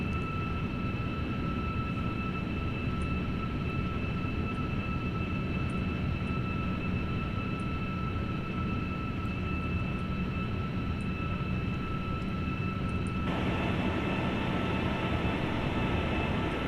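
Steady cabin air hiss inside a Flyjet Boeing 757-200 in the Prepar3D flight simulator, a continuous even rush with faint high tones on top; the sound brightens and grows slightly louder near the end.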